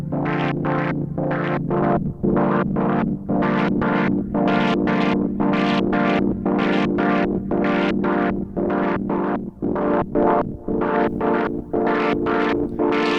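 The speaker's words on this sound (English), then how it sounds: "I really love using noise to modulate either the filter or the tuning. You get this like wonderful lo-fi effect." Melbourne Instruments NINA motorized multi-timbral synth with noise modulating the filter, giving a crusty lo-fi tone: a steady droning chord under a fast run of about twenty-five rhythmic gated bursts, loud and continuous, with no talking.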